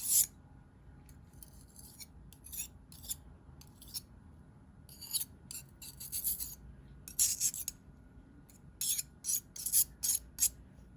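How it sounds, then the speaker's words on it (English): Dry natural pigment is scraped off a surface with a tool, giving faint, short rasping scrapes in irregular clusters that grow denser toward the end, with no talk. "So I'll start by scraping it off of here."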